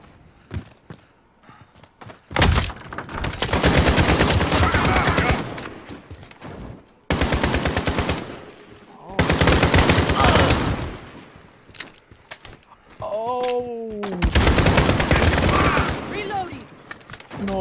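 Bursts of gunfire from the Call of Duty Modern Warfare video game ring out in several loud, dense volleys separated by short pauses, with rapid automatic fire and a rising whine near the end.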